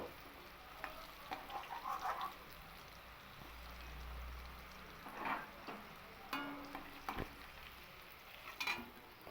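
Quiet, continuous sizzle of potatoes frying in oil, with a few soft clinks and scrapes of a spoon, fairly faint overall.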